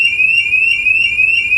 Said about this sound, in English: it seems like this alarm is just constantly going to go off